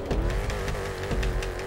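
Engine of a Tornado Rat Rod car in GTA 5, a steady mid-level rumble with a rising tone and brief tire chirps, heard alone at moderate volume.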